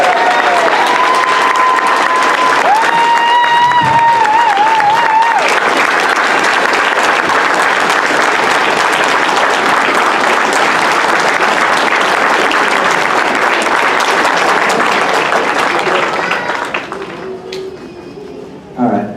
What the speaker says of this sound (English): Folks, how about a round of arousing applause for these 20 graduates?